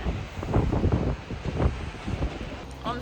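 Strong gusts on a windy day in Edinburgh buffet the microphone, a loud rumbling roar that rises and falls continuously.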